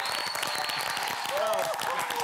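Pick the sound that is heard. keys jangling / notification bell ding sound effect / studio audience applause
studio audience applause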